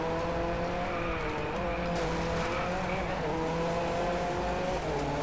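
A Koenigsegg races in the Driveclub video game, its engine holding a loud, sustained high-revving drone with steady tonal harmonics and no letup.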